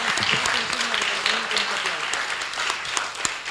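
A crowd at an Argentine evening gala applauds steadily and loudly, dense clapping sustained throughout with voices mixed in beneath.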